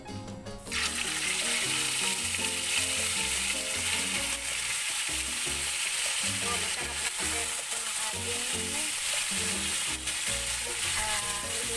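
Food frying in hot cooking oil, a dense, loud sizzle that starts abruptly and holds steady, with crackles and occasional utensil scrapes close by, meant for a galunggong and petchay dish.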